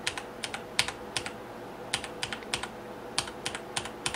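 Keystrokes on a Tt eSPORTS Meka G1 mechanical keyboard with Cherry Brown switches: quiet, crisp clacks in quick irregular clusters, each press clearly separated, with no talking.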